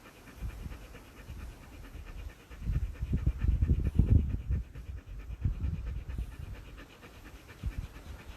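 A dog pants steadily in warm weather, quick rhythmic breaths up close that swell louder through the middle and ease off toward the end, with no talking over it.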